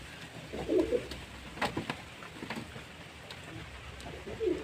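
Pigeons kept in a loft coo at feeding time, several soft, rolling calls spread across the stretch, with light rustling and taps between them.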